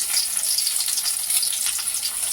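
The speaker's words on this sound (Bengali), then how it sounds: "পেঁয়াজ একসঙ্গে ভেজে নেব" Onions frying together with kochur loti (taro stolons) in a pan, a steady close hiss and sizzle with no speech over it.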